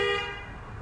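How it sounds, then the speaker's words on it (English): A single short car horn honk from outside, moderately faint and fading quickly into low room noise. "I think my mother's out there honking her horn."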